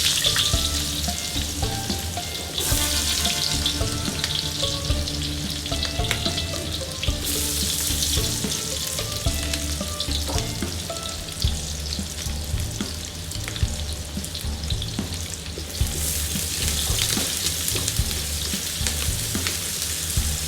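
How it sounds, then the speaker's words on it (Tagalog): Ginger and onion fry in oil previously used for frying fish while cooking seafood pakbet, a steady close sizzle with stirring and clinks of utensil on pan throughout, no talk. "medyo nahilaw natin para yung ginger ay kumalit na sa mantika. And as always, sibuyas."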